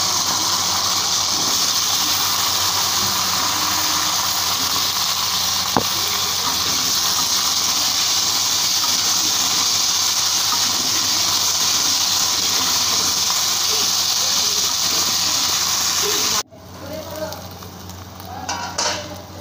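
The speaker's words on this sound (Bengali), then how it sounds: "মাছ ভাজার তেলের মধ্যে একটু জিরে ফোড়ন দিয়েছি, এবার দিয়ে দেবো কেটে রাখা কচুর গাঁঠি আর আলুটা।" Taro corms and potato sizzle loudly in hot oil left from frying fish and tempered with cumin, a dense continuous hiss that cuts off abruptly near the end, leaving quieter kitchen sounds.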